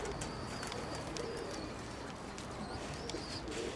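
Stray and racing pigeons cooing and landing outdoors: soft, repeated coos and small wing flutters under a constant outdoor background hiss, fairly faint and without talking.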